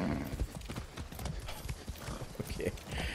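Horse hooves clip-clop at a quick, uneven gallop in the video game Far Cry 6, close and prominent, with brief whinny-like sounds and faint game noise beneath.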